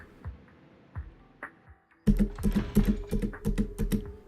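Loud computer keyboard typing, a few isolated clacks first, then a rapid run of heavy, close keystrokes in an uneven rhythm.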